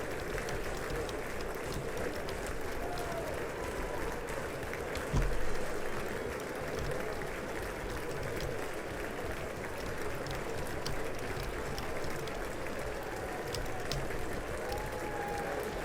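Sustained applause from a large crowd at the 2023 State of the Union, a dense steady roar of clapping that continues without pause throughout.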